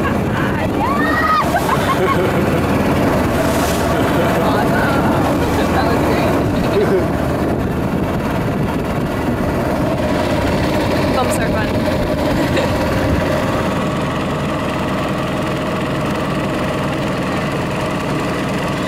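A boat engine on a river in Myanmar runs steadily throughout, a continuous idling drone mixed with water wash and open-air noise, with occasional faint voices in the background.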